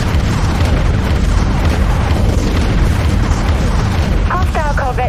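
A corvette ship blows up in the space-combat video game Dreadnought, a loud, dense explosive roar filling the whole stretch over steady battle noise, with chirping electronic sounds near the end.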